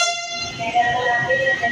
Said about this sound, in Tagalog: This is the newly built fourth generation train made in Mexico, and I think the horn is the same thing as the traditional metro.